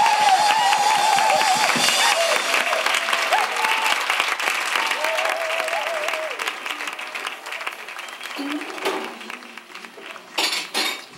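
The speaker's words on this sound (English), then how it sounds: "I'd like you all to join me in giving a warm round of applause" A club crowd gives warm applause for a singer, steady clapping mixed with clinking glasses and dishes and a few voices, thinning out and turning patchier toward the end.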